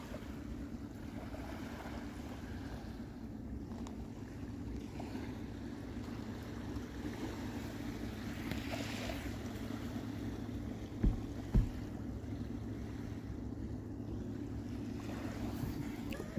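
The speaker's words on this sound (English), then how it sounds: "We're down here. Listening to the waves." Steady low rumble of ocean surf washing in continuously, with wind noise over the microphone and two brief knocks near the end.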